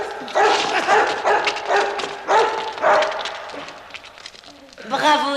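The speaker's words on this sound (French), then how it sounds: "Tu es un bon chien." A dog barks and yelps in repeated bursts close by, in a staged attack during a 1978 French children's adventure series, with several voices talking and shouting over it.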